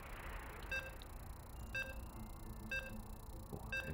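Computers of Counter-Strike players at an esports qualifier give off short electronic beeps, four evenly spaced tones about a second apart, clear over a low background hum.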